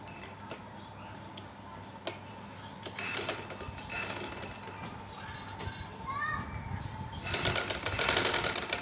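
A sewing machine stitches along the straight edge of a piece of cut fabric in a steady mechanical whir. Children's voices and other background noise run over the stitching, which grows a little louder near the end.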